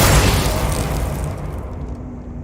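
An exploding fire spell cast in Hogwarts Legacy, a single loud, deep boom that bursts at once and rolls into a long rumbling decay, close and heavy.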